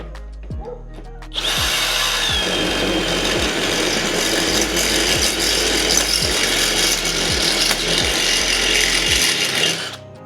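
A power drill whirs loudly and steadily for several seconds after a short pause, with a faint repeating clicking underneath, then stops, drilling a hole in a drum throne.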